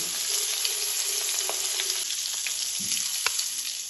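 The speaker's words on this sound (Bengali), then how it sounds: "এখন আমি এর মধ্যে দিয়ে দেবো সিদ্ধ করা ফুলকপিগুলো আমি হালকা ভেজে নেব" Boiled cauliflower florets fry in hot refined oil in a pan for a Bengali vegetarian cauliflower rezala, giving a steady, close, continuous sizzle with a few sharp crackles and no talking.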